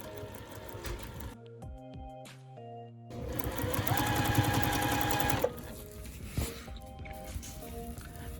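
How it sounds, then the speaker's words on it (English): Sewing machine stitching bias tape around an ironing board cover, a steady fast mechanical whir in bursts with pauses and soft handling clicks between runs, close and moderately loud. "and then we're gonna sew it."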